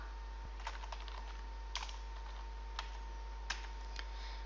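A computer keyboard is typed on quietly in short irregular bursts of clicks over a faint steady electrical hum, with no talking.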